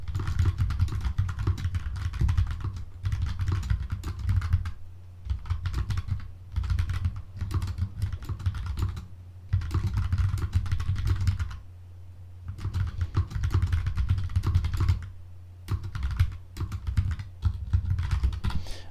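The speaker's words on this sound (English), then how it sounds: "typing" Steady typing on a computer keyboard during a live Nicaragua expat Q&A chat, rapid close key clatter in bursts separated by short pauses, with no talking.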